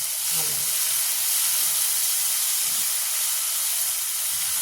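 Chopped green chilli pieces, along with tomato for a spinach and paneer curry, sizzle loudly and steadily in hot oil, a continuous close hiss with no talk over it.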